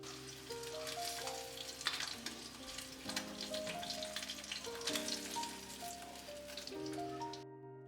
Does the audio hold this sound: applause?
no